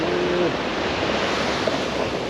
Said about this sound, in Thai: บรรยากาศทะเล